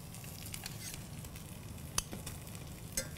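Butter melting in a heated pan, giving a steady soft sizzle with faint crackles and two brief sharper pops, alone without talk.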